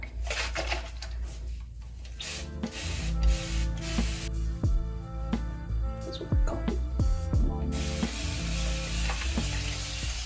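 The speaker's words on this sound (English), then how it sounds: "So I'm gonna wet the hair now." A spray bottle wets loose wave hair extensions, a bundle-and-closure install, with a series of short, sharp misting bursts of varying length, close and clear, with no one speaking.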